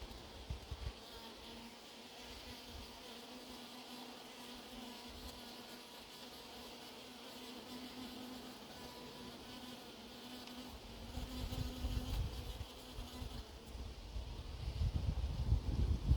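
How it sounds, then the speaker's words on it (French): A hornet hunts bees at the entrance of an apiary hive, the steady buzz of many bees filling the air, with a deeper droning hum and rising wind or handling noise toward the end. "Continue de chasser, là, le frelon."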